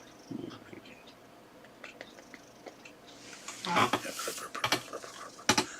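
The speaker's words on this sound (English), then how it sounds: "Fuzzy loves pets and loves to purr." A cat purrs softly and close while being petted, a faint continuous rumble under quiet whispering, followed by louder rustling and handling noises toward the end.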